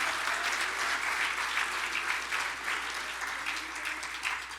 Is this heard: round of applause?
yes